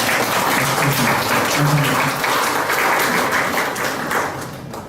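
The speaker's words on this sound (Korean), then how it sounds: "박수 한번 더 주시고" Crowd at an art exhibition event gives a long round of applause, dense clapping held steady for several seconds before tapering off at the end.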